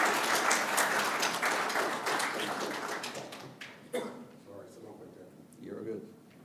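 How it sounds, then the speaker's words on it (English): Audience applause at a school event starts full and dense, then gradually thins into scattered claps that fade out, with a voice speaking as it dies down. "You can give them a round of applause as they come down"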